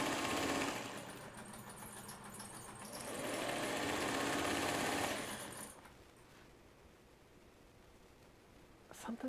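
A sewing machine runs in bursts while binding a quilt, its rapid mechanical whir loud for several seconds, easing briefly and surging again before dropping to a quiet hum.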